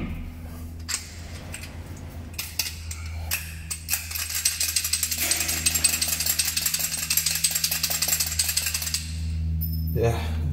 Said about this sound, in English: you have to put more holes and put more rivets.